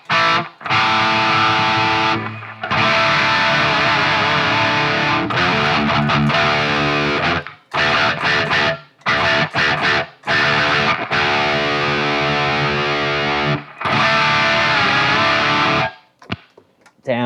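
Electric guitar from a cheap old instrument played through a BOSS distortion unit, heavy chugging riffs in loud sustained bursts separated by short abrupt stops, dense and saturated with a scooped low end.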